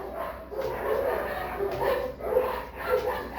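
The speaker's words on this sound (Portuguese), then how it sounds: "Olha o caos, né? Da cachorrada aí." Several dogs barking in a chaotic chorus, repeated yaps and woofs coming in uneven bursts at moderate distance, with some whimpering between barks.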